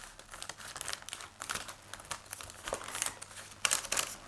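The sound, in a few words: cutting around a cardboard cereal packet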